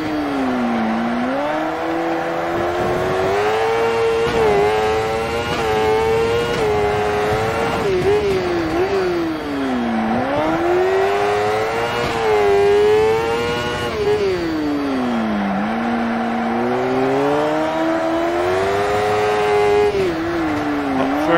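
A crosskart engine revs hard throughout while driving, its pitch climbing and dropping repeatedly as it accelerates and lifts off, loud and close with no talk over it.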